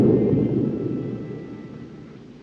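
Deep rolling thunder from a storm in a 1930 film comedy, a loud low rumble that swells at once and slowly fades away across the couple of seconds, with no voices over it.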